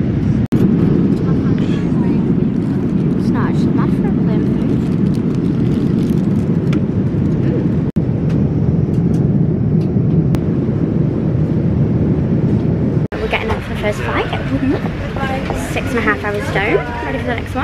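A loud, steady cabin roar from an airliner in flight between Manchester and Bahrain, with people talking over it throughout and the tone shifting slightly near the end.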